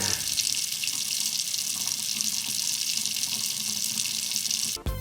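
Kitchen sink tap running steadily, a close, continuous hiss of flowing water that stays even throughout and cuts off abruptly near the end.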